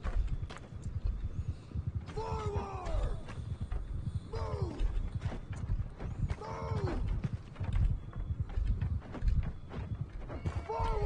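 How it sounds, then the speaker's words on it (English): Horses in the video game Mount and Blade 2: Bannerlord clip-clop across a battlefield amid dense rumbling noise, with a few whinny-like calls rising above the clatter and voices underneath. "there's a horse back there"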